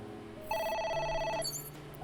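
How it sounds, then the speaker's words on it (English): A telephone in the video game AI: The Somnium Files rings with a single electronic warbling trill, fairly faint over a soft game background. "A phone. Should I pick it up?"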